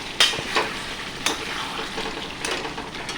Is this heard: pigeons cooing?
no